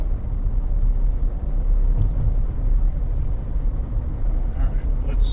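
A truck with about 200,000 miles on it and a check engine light on, out on a road test, gives a steady, close, low road-and-engine rumble that holds evenly throughout.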